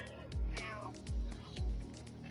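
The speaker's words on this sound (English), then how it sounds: "I have my cat here with me who will not leave me alone." A house cat meows a few times at close range, short plaintive calls that rise and fall in a loose rhythm.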